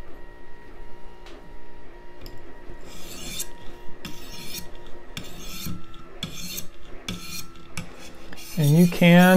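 A USMC KA-BAR knife blade drawn across a 1200 grit sharpening stone in repeated rasping strokes, close and clear, several evenly spaced passes with a brief metallic ring near the end and no talking.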